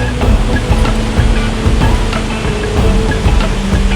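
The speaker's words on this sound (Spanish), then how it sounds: "Al estar detrás de la cascada sentirás la fuerza del agua al desembocar del río por el cantil de las rocas" Roaring waterfall heard from a dark cave behind the falling curtain of a river plunging over a rock cliff in Chiapas, a steady dense rush of water close by, loud and continuous without talk.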